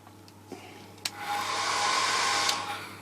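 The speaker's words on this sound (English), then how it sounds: "I'll have to use this one, the hairdryer" A couple of clicks, then a hair dryer switches on and blows with a steady whooshing whine up close, easing slightly at the end.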